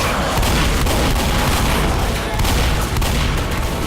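Rapid shotgun blasts in the Left 4 Dead survival map The Bridge from Blood Harvest, booming shots fired one after another amid chaotic gunfire and horde noise, with a voice talking over it.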